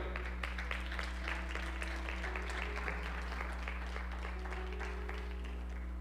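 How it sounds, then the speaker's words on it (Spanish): Sustained applause from a church congregation fills the space, dense clapping with a steady low hum beneath it, no voices standing out. "Ahora sí, denle un aplauso al Señor."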